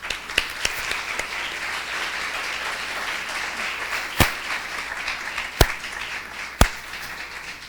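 Audience applause welcoming a speaker at a talk, a steady wash of clapping at moderate distance with a few sharp, louder individual claps standing out near the end.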